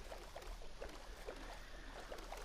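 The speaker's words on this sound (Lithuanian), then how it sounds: "Va, statau valtį, įlipu. Oi. Ir mes plaukiam." Faint, rhythmic splashing of a small boat gliding through water in Minecraft, soft strokes repeating at an even pace with no voices.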